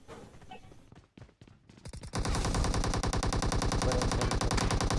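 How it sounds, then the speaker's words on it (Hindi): Rapid automatic gunfire in the PUBG battle royale game, a sparse few shots at first, then a loud sustained burst of close, evenly spaced rounds filling the rest of the stretch. "और यहाँ पे गोलियां चलने लग जाती हैं।"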